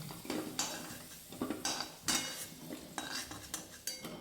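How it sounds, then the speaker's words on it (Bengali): Fried potatoes lifted out of oil with a metal utensil, a series of sharp scrapes and clinks against the pan at an uneven rhythm, close and fairly soft, with a faint sizzle underneath. "এই পর্যায়ে এগুলো এবার তেল থেকে ছেঁকে তুলে নেব"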